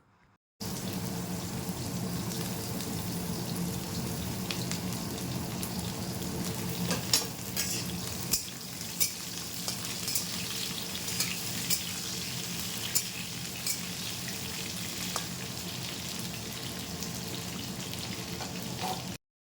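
Panch phoron spices fry in hot oil in a pan for a Bengali pui shak chorchori, a steady close sizzle running throughout with occasional light stirring clicks.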